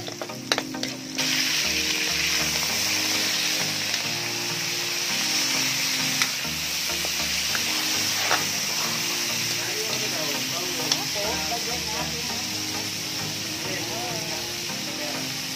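Garlic frying in a pan for Filipino adobong paksiw na pata gives a loud, steady sizzle with crackles and occasional stirring scrapes, beginning abruptly and continuing throughout.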